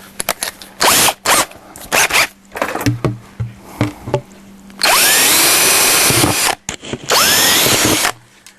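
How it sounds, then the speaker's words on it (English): A power drill with a 1/4-inch bit boring holes in a lid for a chicken nipple waterer, heard as short whirring bursts and then two long, loud, grinding drill runs, close up with no talking. "you're going to have to drill a couple holes"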